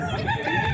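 A Bulik gamefowl rooster at a game farm crows in a short, close burst that is cut off partway, with no voices present.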